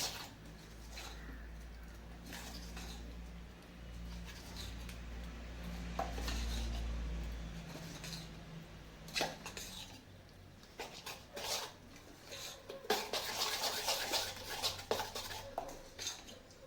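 A spoon stirring mixed-lentil appe batter with salt and a pinch of soda in a bowl, scraping and clinking in scattered taps that grow busier toward the end, quiet and close with a low hum behind.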